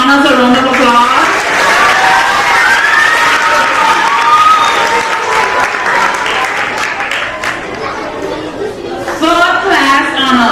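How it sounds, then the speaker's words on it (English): Loud sustained applause at an awards ceremony for second class honours recipients, a full crowd clapping steadily with chatter and a voice rising over it near the end. "Let's give our second class honors a round of applause."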